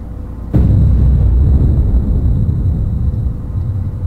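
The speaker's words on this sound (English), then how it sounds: "Use the cannon." Tank cannon firing in a military video game: a single sudden heavy boom that rolls into a long, loud low rumble lasting several seconds.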